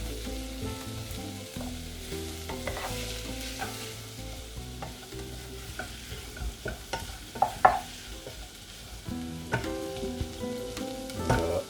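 Onions sizzle softly in a pan while a utensil stirs and scrapes them, with steady frying hiss and scattered clinks throughout and no talking.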